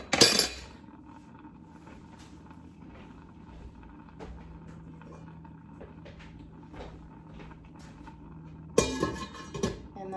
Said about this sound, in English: so now we're just gonna pop our lid on, half off